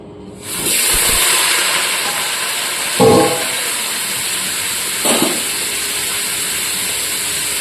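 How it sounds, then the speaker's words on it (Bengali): Potatoes frying in a pan for a Bengali vegetable dish give off a steady, close hissing sizzle that starts suddenly and continues throughout, broken by two brief soft clunks from stirring or handling. "প্রথমে আমি আলুগুলোকে ভেজে নিচ্ছি।"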